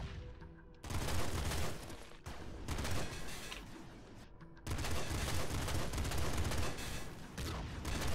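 Sticky launcher fire in the game Nuclear Throne (Ultra Mod), dense rapid bursts of explosive shots and blasts in two sustained loud volleys with brief gaps.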